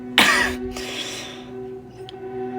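A wounded man coughs weakly, drooling blood, a single harsh cough with throat clearing near at hand over a steady low hum, no speech.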